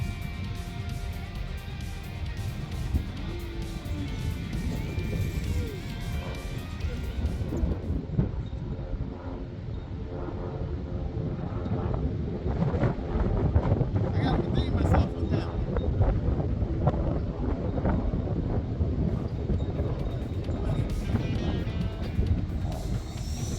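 Gusty wind of around 25 mph buffets the microphone at an RC plane flying field, a low rumbling roar that swells and surges continuously, with a faint hum underneath.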